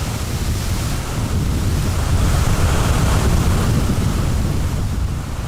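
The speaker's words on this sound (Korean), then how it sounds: "대나무에게 거센 바람은 시련이다." Strong wind roars steadily through a bamboo forest before rain, a dense, loud, buffeting rush with low rumbling gusts and no voices.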